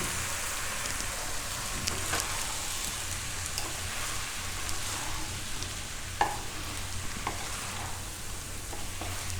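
Sabudana khichdi with mixed vegetables cooking on low heat in a pan, a steady soft sizzle with an occasional stirring scrape or knock, no voices.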